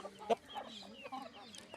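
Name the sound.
chickens clucking, rooster and hens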